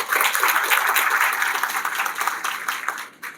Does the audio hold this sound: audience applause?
yes